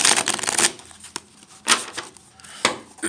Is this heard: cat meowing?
no